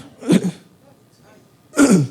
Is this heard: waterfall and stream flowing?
no